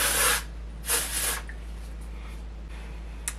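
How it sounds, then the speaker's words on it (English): Amika Undone Volume and Matte Texture Spray hisses from an aerosol can onto hair, two short close bursts followed by faint handling noise and quiet. "And then I'm going to take some of my Amika Undone Volume and Matte Texture Spray."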